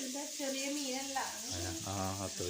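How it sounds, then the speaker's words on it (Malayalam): Small anchovies fry in hot oil with a soft, steady sizzling hiss beneath a person talking throughout. "നമ്മുടെ മീൻ ഇവിടെ തിളച്ച് സെറ്റായിട്ട് വരുന്നുണ്ട് കേട്ടാ"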